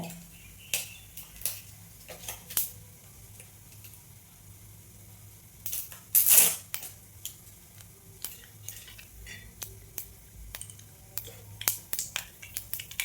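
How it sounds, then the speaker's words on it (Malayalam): Mustard seeds spluttering in hot oil while a vegetable stew is being prepared, heard as scattered, irregular crackles and pops over a low steady background, with one louder burst of popping near the middle. "കടുകൊന്ന് പൊട്ടി വരട്ടെ"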